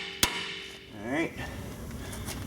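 A hammer whack strikes a ball joint on a Ford F350 4WD front suspension: one sharp, loud metallic hit near the start, then quieter clatter and a brief voice.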